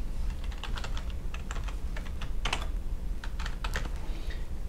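Computer keyboard typing while setting up WordPress database details after a site migration: a steady run of quick, close key taps in uneven bursts, alone with no talk.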